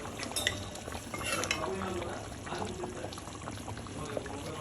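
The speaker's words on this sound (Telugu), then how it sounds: "ఇప్పుడు ఒకసారి కలిపేద్దాం అన్నమాట." Fish curry (pomfret) being stirred in a pot, giving soft scraping and sloshing with a brief pour-like swish near the start, close and fairly quiet throughout.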